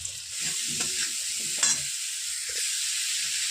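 Spices with chilli, salt, turmeric and cumin powder are sautéed in a pan for a fish curry, making a steady close sizzle with a few soft stirring scrapes and no talk.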